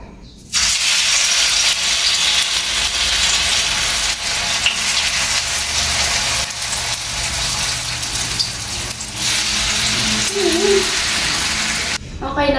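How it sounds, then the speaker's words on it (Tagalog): Steady, loud sizzling and crackling of food frying in hot oil, continuous for several seconds before stopping abruptly. "Let's go frying."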